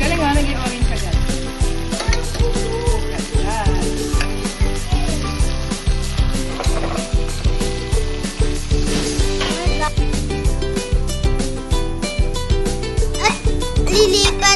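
Shrimp fry in garlic butter with a loud, continuous sizzle, broken by a steady rhythmic clicking and scraping that runs through the whole stretch.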